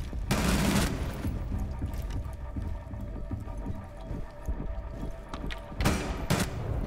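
Video-game shotgun fire sounds as sharp broadband blasts, one near the start and another close to the end, over busy game noise and rapid small impacts, with no voices heard.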